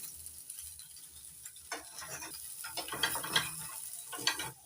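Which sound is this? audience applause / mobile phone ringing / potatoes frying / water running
potatoes frying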